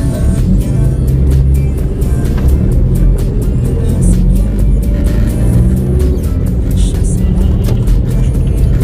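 Road traffic rolls by continuously, with several cars passing close and loud one after another and a steady engine and tyre roar filling the whole stretch.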